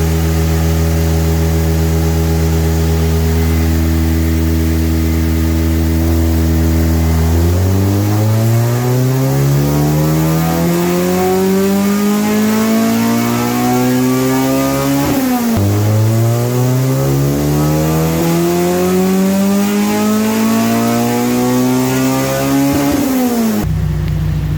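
A Honda B20 VTEC engine revs hard on a dyno run, climbing through the gears in long loud rising pulls with brief drops between shifts, close and sustained with no talking.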